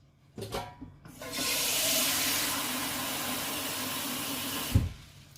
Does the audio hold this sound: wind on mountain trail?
no